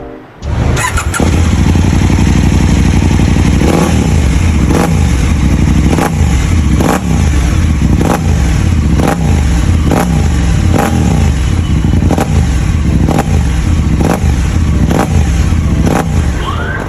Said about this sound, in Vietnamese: Vừa xong là tiếng po HP cọt trên Norton 901.